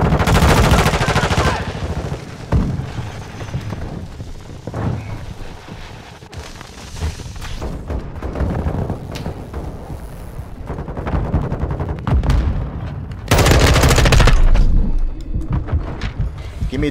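Gunfire crackles through a 20v20 Invasion match of Modern Warfare II on Sarrif Bay, with dense automatic bursts and scattered shots, loud at the start and again near the end, and quieter exchanges in between.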